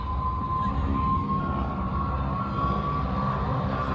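A Tri-Motor airplane flies over the Oshkosh AirVenture camping field, its engines droning loudly and steadily with a faint tonal hum throughout, heard alone.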